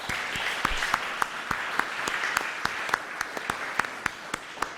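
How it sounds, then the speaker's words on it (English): Audience applause at a community recovery meeting, a steady wash of many hands clapping with sharp individual claps standing out, sustained and moderately loud throughout with no talking over it. "So I want you all to give yourselves a round of applause for your effort"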